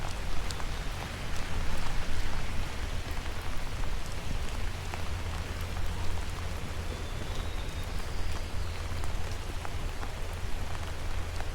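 Steady rain falls during an evening walk in Banff, a dense, even hiss of drops on surfaces that carries through with no talking.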